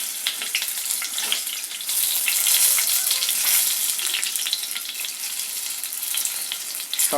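Tomatoes sizzle steadily in hot oil, a continuous close frying hiss with faint stirring and no voices.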